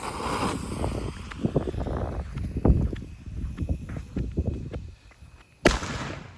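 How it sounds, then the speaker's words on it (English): A Mars Stars single-shot consumer firework from a Phantom assortment fires outdoors in windy conditions, giving a run of pops and crackles followed by one sharp loud burst near the end. "Next one we have here is the Mars Stars. This is the single shot, and it better have a break in it."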